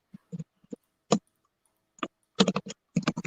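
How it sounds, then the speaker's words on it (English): Someone typing on a computer keyboard, with short bursts of close, crisp key clicks separated by pauses, quiet background and no talking. "someone is typing."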